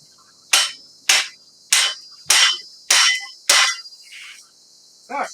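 Heavy hammer blows drive a part into place during a vehicle repair, six sharp metallic strikes in a steady rhythm, close and loud, followed by a couple of softer knocks.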